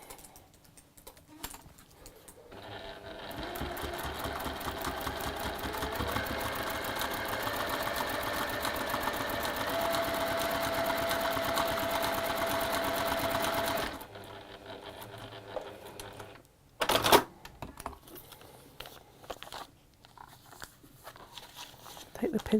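A sewing machine stitches fabric in one continuous whirring run of about ten seconds, close and steady, followed by quieter handling noises and a short clatter, with a person talking before and after.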